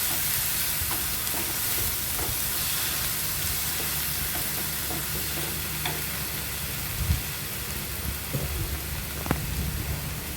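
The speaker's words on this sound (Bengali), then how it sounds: "এবার সমস্ত মশলাগুলো আমি একসঙ্গে ভালোভাবে ফ্রাই করে নেব।" Ground spice paste and four green chillies fry in hot oil for potol varta, a pointed gourd mash, giving a constant loud sizzle with scattered scraping stir sounds and occasional sharper pops throughout.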